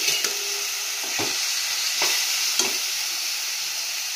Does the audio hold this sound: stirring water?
no